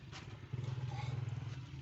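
A motorcycle with a faulty headlight runs at night on a village road, its low engine thrumming steadily and pulsing close by, fairly quiet, with some light rattle and no clear talking.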